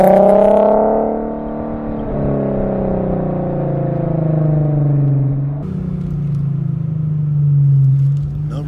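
Infiniti Q50 with an upgraded exhaust revving hard and close, rising to a loud roar, then settling into a droning, falling engine note that swells again, with no talk over it.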